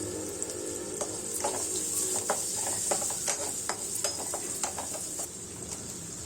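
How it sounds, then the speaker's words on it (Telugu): Turmeric is stirred into hot frying oil in a pan, a steady sizzle broken by repeated scraping clicks of a spoon against the metal, close and moderately loud with no talking. "వేసుకొని అది కూడా కొంచెం కలిపేసేయండి."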